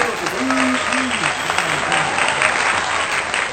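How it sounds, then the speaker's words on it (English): An audience applauds steadily and densely at the opening of a talk show episode, with a voice speaking over the clapping throughout. "Y'all clap that thing."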